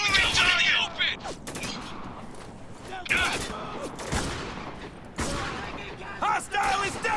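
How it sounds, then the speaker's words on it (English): Heavy gunfire rattles in bursts during a firefight in Spec Ops: The Line. Loud volleys and sharp cracks come close together, and shouted voices break in between them. "Under heavy fire!"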